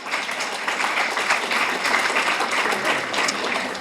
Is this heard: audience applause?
yes